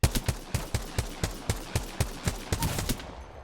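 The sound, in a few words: gun shooting in the video game Apex Legends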